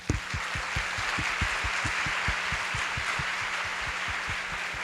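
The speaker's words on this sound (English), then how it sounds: "Please join me in giving them a round of applause" A conference breakfast audience applauds its sponsors, a steady, even wash of many hands clapping at a moderate distance that fills the room without pause or any voices.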